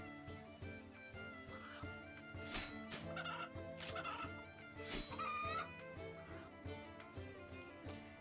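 Chickens clucking repeatedly in the video game RuneScape 3 over a busy background of layered music and game sounds, with a few sharper squawks standing out; no talking.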